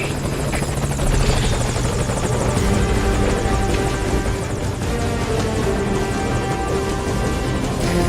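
A helicopter in the Metal Gear Solid V: Ground Zeroes video game roars continuously and loudly, its rotor thrum and engine whine filling the whole stretch with steady, close, dense noise and no voices.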